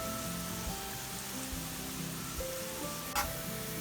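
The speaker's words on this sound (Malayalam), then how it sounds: "സവാള നന്നായി വഴറ്റി കൊടുക്കാം സവാള പെട്ടെന്ന് വശങ്ങാനായിട്ട് ശകലം ഉപ്പ് ആഡ് ചെയ്ത് കൊടുക്കാം" Chopped onions sautéing in a hot pan with a pinch of salt added, giving a steady close sizzle with light stirring scrapes and one brief sharp clink near the end, no voices.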